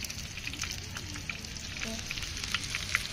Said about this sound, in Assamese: আমাৰ মিক্স ভাজি ন বিন গাজৰ সৰু আলু বিন গাজৰ আৰু সৰু আলু